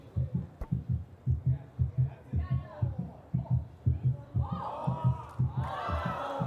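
Rhythmic double-thump heartbeat effect pulses steadily throughout, played during a pickleball video review at an indoor league match, with crowd noise and cheering swelling over it toward the end.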